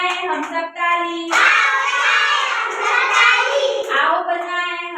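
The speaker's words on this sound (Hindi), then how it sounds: "आओ बजाए हम सब ताली" Children clap their hands in a repeated rhythm for a clapping song, close and loud, with singing voices underneath.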